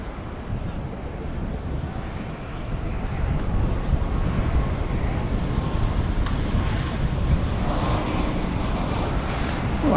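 A UPS Boeing 767 wide-body jet takes off at DFW Airport at night, a distant low rumbling roar that swells partway through, mixed with wind buffeting the microphone.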